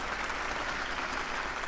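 A capacity snooker crowd at the Barnsley Metrodome applauds Jimmy White, steady dense clapping filling the whole moment at an even level with no voices standing out.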